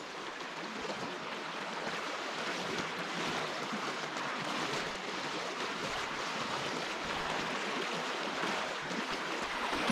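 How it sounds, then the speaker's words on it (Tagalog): Fast-flowing river current at Barasibis Falls in Lagayan, Abra rushes steadily and loudly, a dense unbroken wash of churning water close by with no pauses. "Pero ang bilis ang agos oh."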